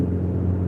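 A black Ferrari SUV rumbles past on the road, a steady, loud low engine drone for under a second with no voices.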